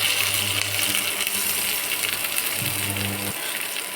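Oil poured over diced tomatoes in a hot pan for paneer tikka biryani gives a steady close sizzle, with a low trickling pour that stops near the end.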